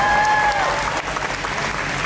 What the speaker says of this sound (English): Give these extras a big round of applause.